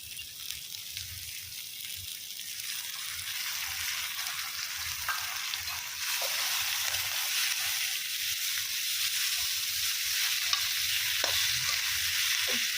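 Coriander sizzling in hot oil for a tempering on a husk-fired stove, a steady, close crackling hiss that swells slightly halfway through, with occasional stirring clinks.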